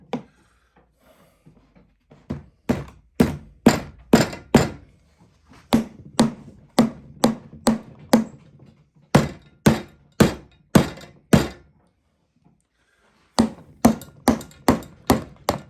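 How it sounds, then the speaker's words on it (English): Repeated heavy thunks as a striker hammer knocks a wooden part of a fairground high-striker bell game into place, struck in steady bursts of rapid blows with short pauses, close and loud. "with a good old trusty striker hammer, we can kind of knock it into place"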